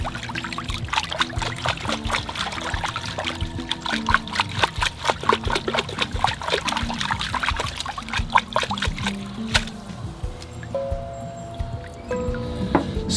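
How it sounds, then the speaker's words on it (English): Water pours and trickles steadily while a bonsai tree is washed, with close splashing and dribbling throughout and scattered sharp drips and knocks. "I'll go wash the tree now."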